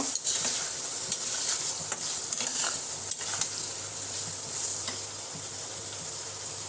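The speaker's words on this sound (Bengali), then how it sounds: "টমেটো দিয়ে আমি মশলাটা কষাই নিচ্ছি।" A spice paste with tomato being sautéed for prawn curry sizzles steadily in the pan while a utensil stirs and scrapes with intermittent clicks, close by and without talk.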